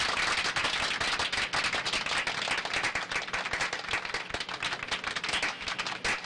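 Dense hand clapping fills a scene from a Hindi-dubbed South Indian film, a steady crackling wall of many hands with no clear gaps or voices.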